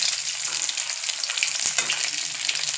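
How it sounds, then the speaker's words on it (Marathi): Bombay duck (bombil) fish frying in a pan, a close, dense crackling sizzle that holds steady and bright for the whole short stretch, no voices. "बोंबील चांगले असे फ्राय करून घ्यायचे"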